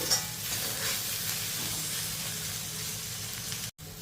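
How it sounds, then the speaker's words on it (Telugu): Chopped okra and garlic frying in a pan make a steady, fairly loud sizzle with faint stirring underneath, close up and unbroken until a brief dropout near the end, with no voices. "ఇప్పుడు ఈ వెల్లుల్లి వేసిన తర్వాత ఇంకొక నిమిషం ఫ్రై చేసుకోవాలి"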